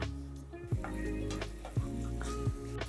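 Chicken cooks under a lid in a kadhai over a medium-low flame, giving a steady soft sizzle with a few brief louder pops or knocks spaced through it.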